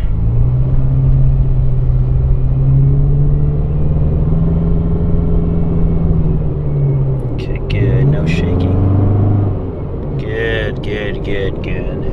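A 2017 Subaru WRX STI with a big wing on a test drive, its engine a loud, close, steady rumble from inside the cabin that rises in pitch as it speeds up, with someone talking over it.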